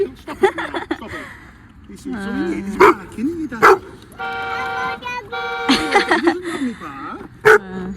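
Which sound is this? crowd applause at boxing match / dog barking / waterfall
dog barking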